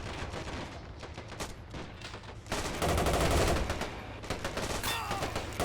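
A Bren gun and a German MG42 trade machine gun fire in a World War II video game: dense, rapid bursts and overlapping shots, growing louder midway and continuing without pause.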